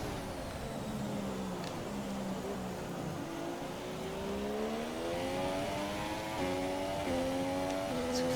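A Formula 1 car engine in the F1 2017 racing game, on a wet track, revs high and climbs through the range with wheel spin, shifting pitch steadily and staying loud and close throughout without talk.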